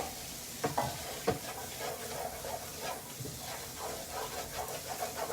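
Food browning in a pan for keto soul food while being stirred, a soft steady sizzle with scraping spoon strokes and occasional clacks against the pan, fairly quiet with no talk.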